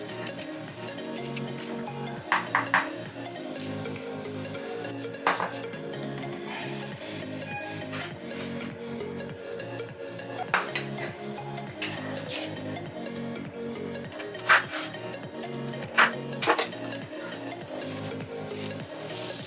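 A knife chopping the green portion of leaves on a cutting board in a home kitchen, a series of soft, irregular taps and scrapes at close range with quiet background hum.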